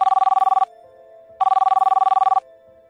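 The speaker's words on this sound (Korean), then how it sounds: "충전 중인 휴대폰을 잡는 것과 동시에 전화가 왔다." A phone rings in two fast trilling bursts, each about a second long, with a quieter steady tone between them; loud and close, no voices.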